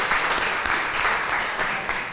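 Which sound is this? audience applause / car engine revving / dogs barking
audience applause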